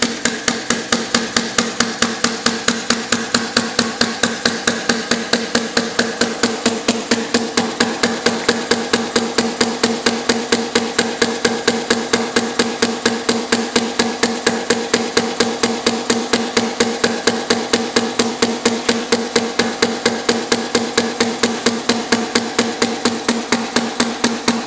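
An inverted hit-and-miss engine idles slowly, producing a long, even series of loud, sharp mechanical knocks at a fast, regular beat from start to finish.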